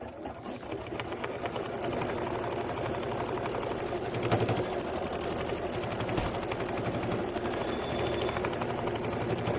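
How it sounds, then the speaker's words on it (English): Kimberbell quilting machine stitching an outer border, a steady fast mechanical whirring and needle patter running continuously at close range with no voices. "hit start and let it do its quilting"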